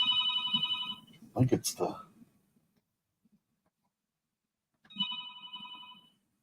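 A telephone rings in a hospital room, a bright electronic trill heard twice with a pause between, fairly faint and distant, while a person speaks briefly in between the rings.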